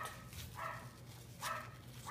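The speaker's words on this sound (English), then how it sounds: "Sorry, that's my dog." Faint, distant dog barks repeat about three times over a constant low background hum.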